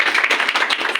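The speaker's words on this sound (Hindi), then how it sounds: "प्लीज उनके लिए जोरदार ताली" An audience at a seminar breaking into loud, dense applause, rapid overlapping claps at close range with no talking.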